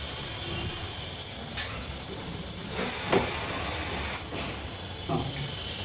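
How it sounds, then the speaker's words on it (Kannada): Pressurized gas hissing out of a cylinder safety regulator during a leak trial: a steady low hiss that swells into a louder broadband rush for over a second, with a few short spurts after it. "ಈಗ ಲೀಕೇಜ್ ಐತೆ, ಕೈ ಬಿಡಿ"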